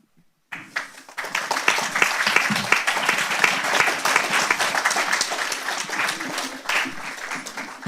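Audience at the Wainwright Prize 2024 ceremony bursts into applause, a dense sustained wash of many hands clapping that swells quickly, holds for several seconds and then eases off.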